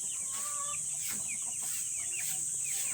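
Chickens and a rooster cluck softly on a farm where Rhode Island Red, Black Australorp and Light Sussex birds are kept. The faint clucks repeat over a steady high-pitched hum, with a little quiet talk.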